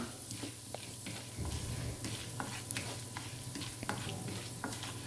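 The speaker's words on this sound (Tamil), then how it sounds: "ஆயில் ஹீட் ஆன பிறகு தாளிக்கிறதுக்கு 1/4 டீஸ்பூன் கடலைப்பருப்பும் 1/4 டீஸ்பூன் உளுத்தம்பருப்பும் சேர்த்து" Chana dal and urad dal sizzle and crackle in hot oil with scattered pops and occasional stirring scrapes, close by and fairly quiet.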